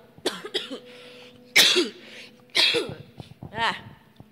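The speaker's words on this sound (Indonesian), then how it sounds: "Batuk is back." Several sharp, loud coughs from a person with a still-sore throat burst out in quick succession, separated by brief pauses, with some vocal sounds mixed between them.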